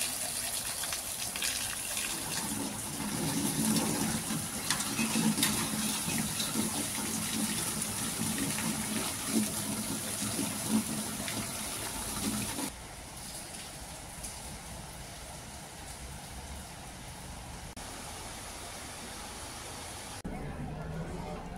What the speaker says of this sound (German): Aha, kommt immer irgendwo Wasser runter.